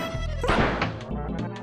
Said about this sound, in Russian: это они блоки разбивают